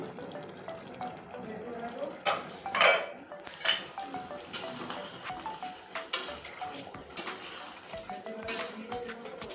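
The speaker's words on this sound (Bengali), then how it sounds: "এবার আমি ঢাকনটা খুলে নিচ্ছি" Metal lid lifted off a pot of mixed vegetables and potatoes cooking together, with clanks of pot and utensils and stirring scrapes over a low simmering background, several sharp knocks standing out.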